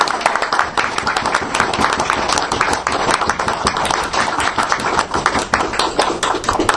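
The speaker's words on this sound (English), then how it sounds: "Put your hands together, please, and give a warm welcome applause to Lady Renouf." Dense, sustained audience applause for a speaker's introduction at a talk, loud many-handed clapping filling the whole span with no breaks.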